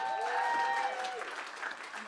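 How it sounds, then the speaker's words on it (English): Audience applause at an evening music concert before an intermission, clapping building under a voice and lingering tones at first, then continuing as a dense, even wash of claps. "So let's give a round of applause"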